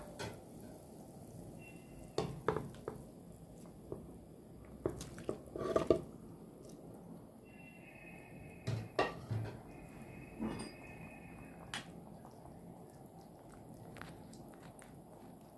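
Cauliflower pieces go into a pot of boiling broth with scattered wet plops, splashes and clinks of utensil on metal, close and fairly quiet over a low simmering hiss.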